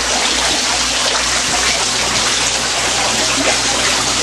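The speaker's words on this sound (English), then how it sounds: "It's a smaller fountain pump here." A small fountain pump in a garden pond sprays and splashes water in a steady, dense rush, close and loud, unbroken for the whole stretch with a low hum underneath.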